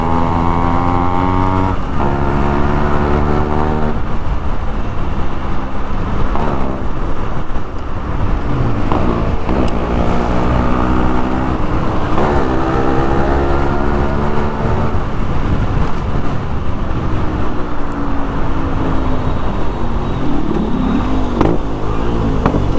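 A Yamaha RX135 two-stroke motorcycle engine revs loudly and close, rising and falling in repeated throttle sweeps over a steady, raspy idle.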